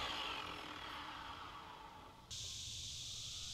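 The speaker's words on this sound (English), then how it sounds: "Now I'm just cutting off that end of the dowel so it's smooth." A saw cuts through the end of a wooden dowel on a DIY tree-branch whistle, a short steady rasp that fades, then a higher tone rises abruptly and holds.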